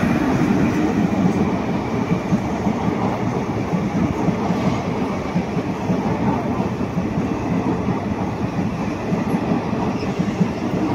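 A train rolls past close by, a loud, continuous rumble and rattle of wheels and cars that holds steady for the whole stretch, with no break or fade.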